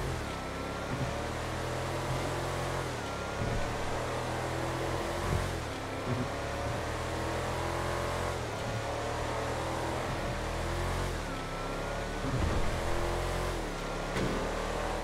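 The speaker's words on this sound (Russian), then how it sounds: "Да, вот здесь прям слышится рычание мотора на модифицированных насадках" Car engine with a modified exhaust revving and accelerating in GTA Online, a steady loud rumbling drone with rising and falling pitch sweeps throughout, no talk.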